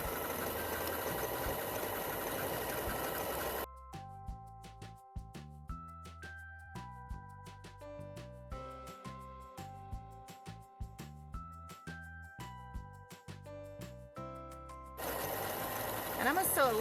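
A sewing machine stitches a woven quilt, steady loud whirring at first, then breaking into a series of separate short clicks and mechanical taps, before the continuous running whirr resumes at the end.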